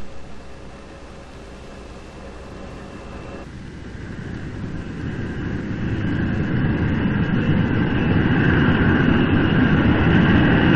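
A TWA jet airliner lands and slows toward taxi speed, its engine roar and wind rush swelling steadily louder and rougher over the runway, with no voices.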